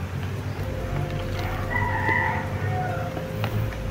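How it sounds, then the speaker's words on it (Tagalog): Roosters crow on a rainy day, a drawn-out call rising over steady rain-like background noise, moderately distant, with no talking. "parang meron din akong mga narinig na mga pumilaok na mga manok"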